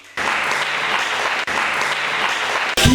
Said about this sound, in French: Et commence à acclamer le Seigneur Jésus